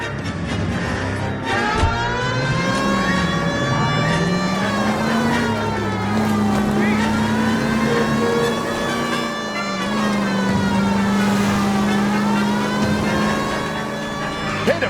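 A car driven in the video game L.A. Noire, its engine holding a steady, droning tone that rises and falls in pitch with a siren-like wail running over it throughout.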